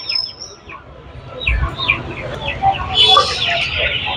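Small chicks for sale at the weekly market in Ranipet, India, chirp in quick, high peeps, repeating over a busy background hum with some murmuring nearby.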